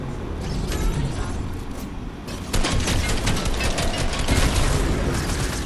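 Rapid gunfire from a video game as an alien ship is shot down, a dense continuous burst that grows louder and heavier partway through, with no voices over it.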